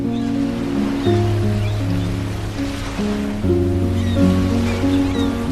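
Sea waves wash at Bashbaria beach in Sitakunda, a continuous rushing surf with a steady low tonal hum running beneath it.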